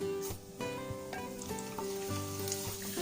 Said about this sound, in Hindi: अब हमने 1 टेबलस्पून ये जीरे का लिया है, ये जीरा भी हम इसमें डाल देंगे